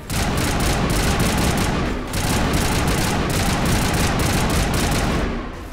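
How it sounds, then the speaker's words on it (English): Sustained gunfire from a firefight in the Mass Effect video game, a dense rapid barrage of shots that stays loud and continuous throughout, with only a brief dip near the middle. "What are they shooting at?"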